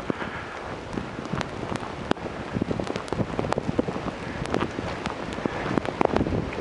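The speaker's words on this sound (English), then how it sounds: "You can hear that wind." Strong wind gusting through a Chicago blizzard in 2011, a steady broadband roar with rough buffeting against the microphone and scattered sharp crackles, loud and close, with no voices.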